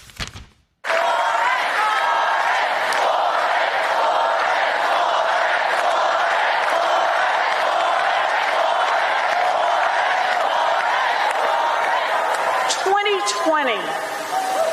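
A large crowd of up to 20,000 people at an Elizabeth Warren campaign rally roars in a loud, sustained wall of cheering and applause that holds steady for over ten seconds before tapering off.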